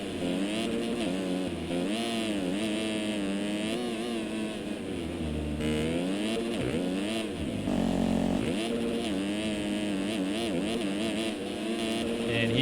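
Motocross bike engine in MX Simulator at the Washougal round of the 2020 Nationals, revving and shifting continuously through an onboard lap, loud and close with rising and falling pitch.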